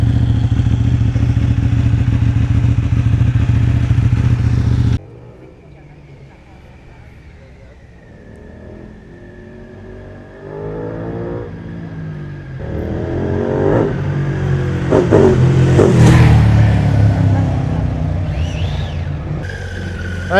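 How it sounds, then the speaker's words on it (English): A rebuilt Ducati motorcycle engine idles loudly, then revs up repeatedly in rising, snarling bursts, close by and growing louder toward the end. "You're probably not going to be able to hear me much because the engine's so loud"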